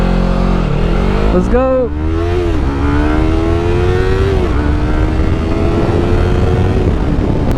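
Yamaha R3 motorcycle engine revving up and down loudly while riding, with rising and falling pitch sweeps over steady wind and road roar; a rider speaks briefly near the start.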